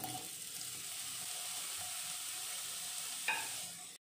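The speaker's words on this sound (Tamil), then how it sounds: "பன்னீர் ஆட் பண்ணதுக்கப்புறம் ஸ்டவ்வை மீடியம் ஃப்ளேமில் வச்சுட்டு ஃப்ரை பண்ணிக்கலாம்" Paneer fries in hot oil and ghee over a medium flame with a soft, steady sizzle, faint and continuous, and a brief clatter near the end.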